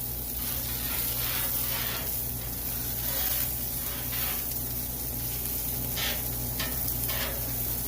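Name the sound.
pork belly pieces frying on a new Blackstone griddle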